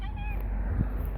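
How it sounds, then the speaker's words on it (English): A wet cat outdoors after rain gives a short, faint meow, close by, with a low background rumble and no talking. "Mew, mew, mew."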